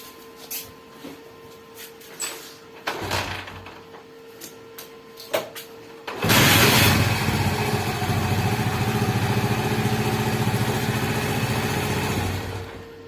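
A few scattered clicks and taps come first, then a Honda CD 70 motorcycle fitted with a side stand switch fires up and settles into a steady, close single-cylinder idle that runs nearly to the end.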